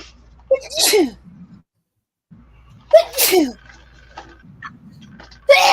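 Two loud sneezes a couple of seconds apart, close up, with faint murmuring and quiet room noise between them.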